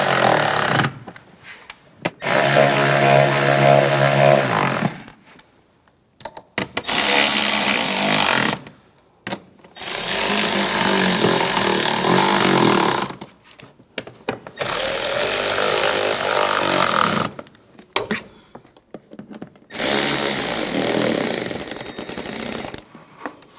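Power tool driving the starter bolts on a 2009-2013 BMW 328i xDrive 3.0L I6, loud whirring bursts of a few seconds each, about five of them separated by short silences.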